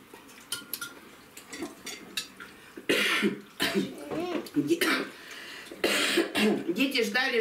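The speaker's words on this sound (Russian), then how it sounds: "Ротик закрывает, когда кашляешь?" A child coughs several times during a family meal of homemade dumplings, the sharp coughs mixed with clinking dishes and cutlery, with people talking around the table.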